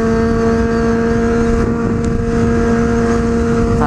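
Motorcycle engine running steadily and loud up close while riding through traffic, a sustained droning tone with slight pitch shifts as gears change, no talking.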